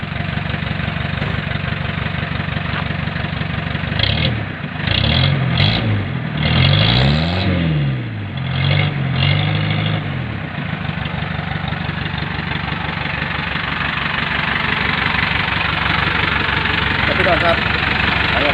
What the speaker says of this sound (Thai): เอาเร่งบ้างเร่งเครื่องมั้ยไงเร่งเครื่องบิ้ง